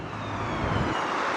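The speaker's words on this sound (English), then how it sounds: "the soundtrack of Bristol, which is the police siren you can hear in the background" A distant police siren wails in the background of Bristol city streets, a steady high tone over a constant urban rumble, with no voices.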